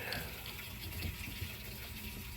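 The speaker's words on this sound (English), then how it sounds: "My mom is running the washer. That's what the water you're hearing right now." Water running in a household washing machine, a steady broadband gush and fill sound heard faintly in the background, continuous throughout with no talk.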